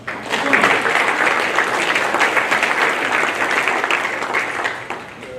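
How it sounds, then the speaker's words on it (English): Sustained audience applause at the 2025 Nelsonville-York Hall of Fame Ceremony, a dense wash of clapping from a large crowd that swells quickly and holds steady before tapering off. "let's give them a round of applause"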